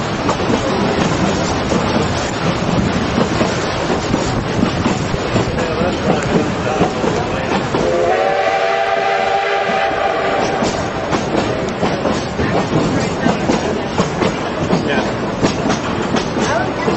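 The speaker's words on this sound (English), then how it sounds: "Hey, we're on the train. We just left Durango." Durango and Silverton excursion train pulling out of Durango at a railfest, with steady loud rumbling and clattering wheels throughout and a sustained horn blast sounding for about two seconds midway.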